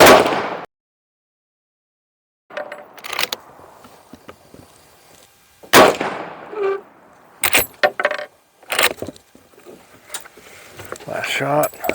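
A Marlin lever-action rifle fires a 170-grain soft point round outdoors, a single sharp, loud report at the start followed by silence, then rustling and handling noise with a voice speaking later.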